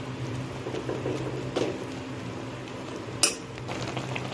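Bread being stirred into sugar syrup in a pan, soft wet bubbling under quiet spoon scrapes and two sharper metallic clinks, heard close with no talking.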